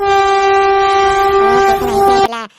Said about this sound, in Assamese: ট্ৰেইন অহাৰ নিচিনা শব্দ শুনিছোঁ দেই